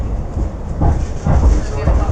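A tram runs along its rails in Guangzhou, giving a steady low rumble with rhythmic clunks and rattles from the wheels at moderate loudness, and a voice talks faintly beneath it.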